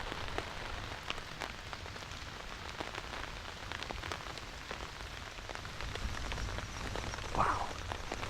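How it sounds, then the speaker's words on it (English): Steady rain pattering on leaves in an overgrown mountain forest during a tropical storm, heard from shelter beneath a huge tree, with scattered heavier drips and a constant even hiss; no voices. "right now I'm hiding out underneath this huge tree here, getting out of the rain for a second"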